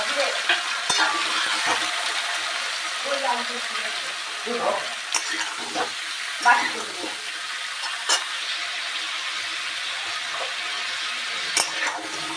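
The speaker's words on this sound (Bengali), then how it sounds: "একটু জোর আগুন দিয়ে এগুলো একটু ভাজা হলে" Eggplant, pumpkin and potato sizzle in a pan over high heat, a constant close crackle broken by sharp scrapes and clacks of a spatula stirring; a voice speaks briefly in the background.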